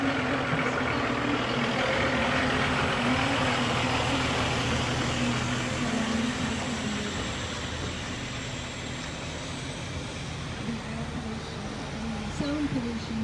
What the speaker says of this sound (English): sound pollution here from these trucks coming and going is very hard